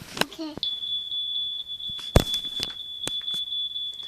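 Household smoke detector with a low battery, sounding a sustained high-pitched electronic tone with a few sharp knocks and clicks over it, close by, while a person speaks briefly at the start.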